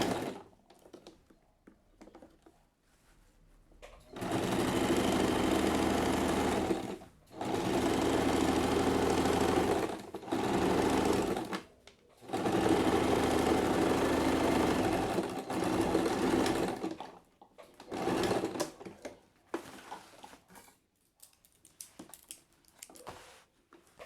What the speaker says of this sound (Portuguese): Começa a costura, deixando 1 centímetro de largura e vou até o outro lado.